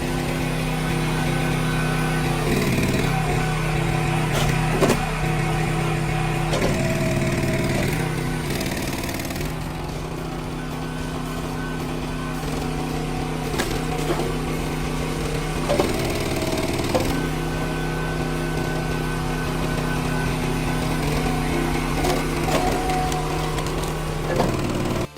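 An engine-powered log splitter working through tough logs, its motor droning steadily and loudly throughout, with occasional cracks and splintering of wood over the engine noise.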